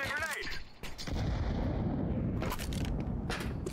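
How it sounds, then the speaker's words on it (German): Gunfire in the video game Counter-Strike, Vertigo map, Wingman mode: a single sharp shot cracks early, followed by loud continuous noisy rumble with further bursts, fairly close. "Oh, ein Schuss."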